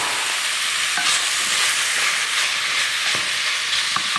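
Cherry tomatoes hiss and sizzle loudly in a hot pan, a steady close frying crackle with a few soft stirring knocks and no voices.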